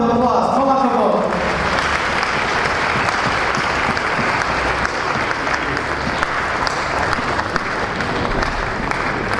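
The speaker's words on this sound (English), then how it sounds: "Big round of applause." Applause from an audience at a Chabad of Rechavia decade celebration, a dense, even wash of clapping that starts after a few spoken words and carries steadily for several seconds.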